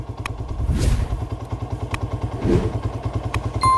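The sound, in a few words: motorcycle engine running after being started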